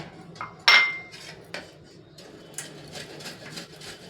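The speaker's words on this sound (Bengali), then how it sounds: "এবার আমি এই গ্রেটারটা দিয়ে খোয়াটাকে গ্রেট করে নেব।" Khoya grated on a metal grater, a few scattered rasping strokes with a sharp metallic clink early on, close and fairly quiet.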